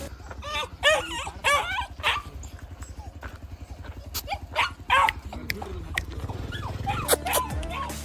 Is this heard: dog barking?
yes